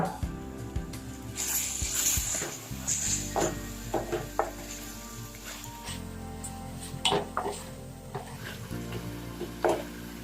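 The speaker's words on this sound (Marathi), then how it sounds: "दोन टमाट्यांची पेस्ट घालून परतून घ्या" Two tomatoes' worth of tomato paste, added after ginger-garlic paste, sautés in a pan for dhaba-style mutton, giving a steady close sizzle broken by repeated spoon stirs and scrapes.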